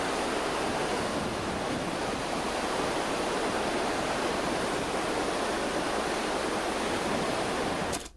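A river flows in a continuous, even hiss of rushing water, with a low rumble of wind underneath, steady and fairly loud throughout before cutting off abruptly at the end.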